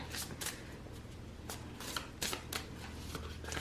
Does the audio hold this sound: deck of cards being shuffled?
yes